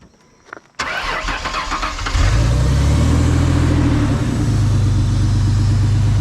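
A click, then a starter cranks briefly before an engine catches and settles into a loud, steady idle close by, with no added noise after a belt was taken off.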